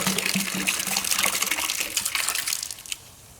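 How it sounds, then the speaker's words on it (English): Water pours and gushes into a container, splashing steadily before tapering off near the end. "And then we're going to fill the rest with water."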